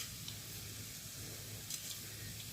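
Fennel seeds dry roasting in a pan on a gas stove, giving a faint, steady, soft sizzle and hiss with a few light rustles as they are stirred, and no voice.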